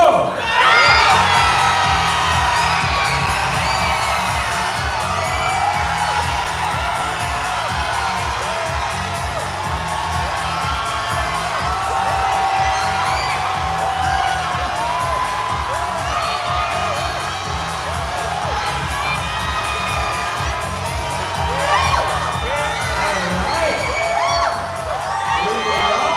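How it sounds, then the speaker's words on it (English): At a Miss Asia Pacific International pageant coronation night, a large audience screams, whoops and cheers loudly and continuously for the whole stretch, a dense roar of crowd voices that holds its energy throughout. "Let us hear you scream out your bets. Go!"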